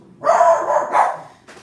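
Dogs bark in a quick pair of close, drawn-out barks, followed by a brief pause and one shorter, sharper yip.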